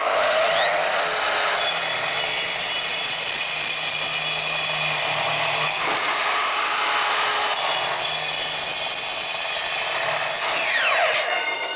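A handheld circular saw with a multipurpose blade whines steadily through a long cut in metal pipe, high-pitched and loud, with a brief dip midway before grinding on to a stop.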